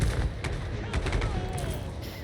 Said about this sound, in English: The cannon just has to hit it one more time.